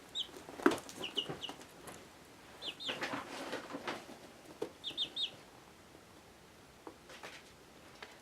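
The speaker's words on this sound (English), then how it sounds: "Just enjoy chickens for a second." Soft scattered clucks and chirps from several chickens nearby, irregular and fairly quiet, with some light scuffling and rustling between calls.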